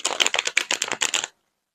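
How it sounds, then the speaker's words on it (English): A deck of cards being riffle-shuffled up close, a quick run of dense crisp flutters lasting just over a second and then stopping into silence. "As I'm shuffling this secondary deck here"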